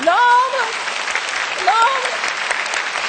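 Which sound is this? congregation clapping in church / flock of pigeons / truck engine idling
congregation clapping in church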